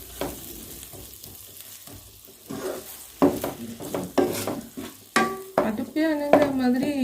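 Two medium tomatoes tumble into a hot pan for vegetable rava kichadi, triggering a burst of sizzling with intermittent scraping and clinking of a spoon as they are stirred.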